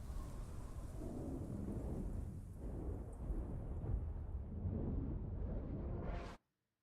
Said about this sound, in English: It might just be the lightning spell sound effect too.